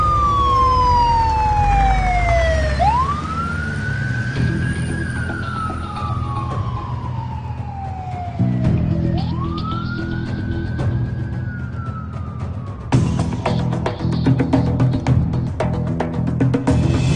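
An ambulance siren wails, rising and falling in long slow sweeps, loud and close, with a vehicle rumble beneath and a sharper, faster siren tone near the end.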